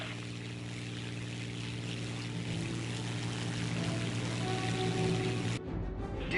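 A propeller aircraft engine at full throttle in the video game War Thunder, a steady loud droning roar with a hum that holds constant, then cuts off abruptly near the end.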